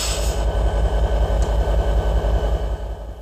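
A Soviet-export diesel locomotive, no. 803, runs at a railway museum in Union, its engine a steady loud low throb with a regular rhythmic pulse and faint rail noise.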